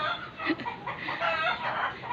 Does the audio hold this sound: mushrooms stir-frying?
no